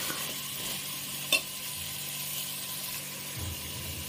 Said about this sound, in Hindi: और अब इसे भी हम भून लेंगे 2 मिनट ऑयल और मसाले के साथ, अदरक लहसुन के पेस्ट के साथ